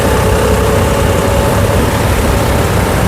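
A tractor carrying people through floodwater runs with a loud, steady engine drone that stays close and constant throughout, with no voices.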